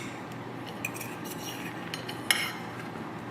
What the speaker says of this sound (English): I'm going to transfer them onto a sprayed 1/4 sheet pan.